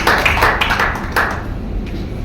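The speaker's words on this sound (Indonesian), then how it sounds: "Tepuk tangan untuk Tuhan Yesus." A church congregation claps for Jesus at the close of a sermon: a brief, lively burst of hand claps that quickly thins and fades.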